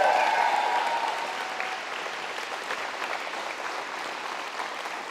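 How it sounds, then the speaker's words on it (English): Warm applause from a gathered crowd welcomes home a high school soccer team after its first state championship, starting strong and easing into steady, moderately loud clapping. "These guys deserve a round of applause for their first ever state championship!"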